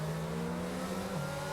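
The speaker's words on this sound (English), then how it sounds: "You can actually hear the safety car in this game too" In the racing game rFactor, the safety car's engine drones at steady revs, its pitch dipping slightly near the end, heard at a moderate distance over a constant background rumble with no voices.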